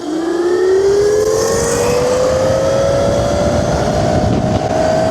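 A Rawrr Mantis 72V electric pit bike accelerating along a street: a loud electric-motor whine that climbs steadily in pitch over a constant rushing roar of wind and tire noise, heard up close throughout.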